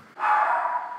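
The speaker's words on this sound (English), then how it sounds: "My dog's barking." A pet dog gives one sustained, fairly loud bark-like yowl indoors, close by, lasting most of a second.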